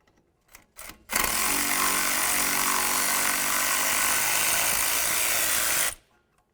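Power tool spinning off a 10mm bolt on a 2002-2006 Honda CR-V strut, a loud continuous whirring buzz for about five seconds, close and alone after a few light clicks.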